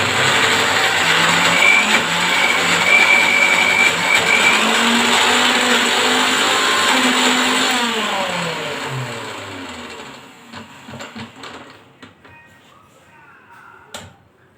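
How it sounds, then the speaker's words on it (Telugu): A mixer grinder grinding chutney whirs loudly and steadily, its motor pitch shifting, then cuts out and winds down, leaving a few faint clinks. "ఇప్పుడు మిక్సీ పడదాం"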